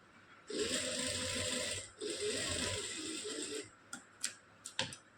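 A sewing machine stitches across a diagonal joint in a piping strip, running in two steady bursts of close, loud whirring, then a few separate clicks and taps as the fabric is handled.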